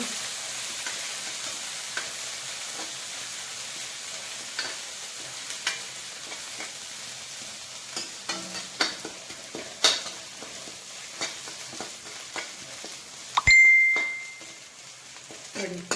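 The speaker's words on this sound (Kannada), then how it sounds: "ಹಸಿವಾಸನೆ ಹೋಗುವ ತನಕ ಫ್ರೈ ಮಾಡಬೇಕು" Masala fries and gets stirred in a pan for a Mangalore tomato rasam, a quiet steady sizzle under occasional scrapes and clinks of the spoon. A sharp metallic ding rings out near the end.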